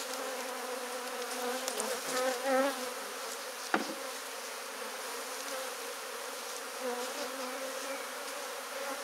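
Honeybees at a hive in a tree buzz steadily in a dense, continuous drone, with individual insects swelling louder as they pass close, and a brief sharp knock on the tree partway through.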